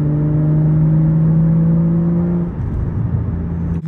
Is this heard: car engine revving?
yes